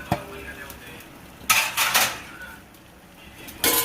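Almonds, cashews and pistachios fry in ghee in a pan, with a faint steady sizzle broken by a few loud scraping, clinking bursts of stirring.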